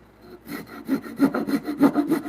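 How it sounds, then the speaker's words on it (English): A hand saw cuts into a timber beam for a bunk bed frame, making rhythmic rasping strokes about every third of a second after a quiet start, close and clear with no speech. "When you're hand sawing, to keep your hand level, it's real difficult because you're pulling"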